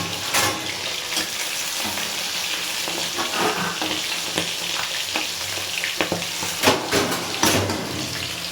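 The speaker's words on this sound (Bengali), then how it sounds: "মাছ ভাজা হয়ে গেছে।" Fish frying in hot oil in a kitchen pan, a loud continuous sizzle with crackling pops and occasional sharp spatters throughout, no voices.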